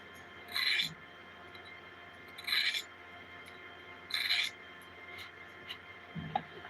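A blade tip is drawn lightly across a sharpening stone in four short, evenly spaced rasping strokes, with soft handling noises between them and no talk.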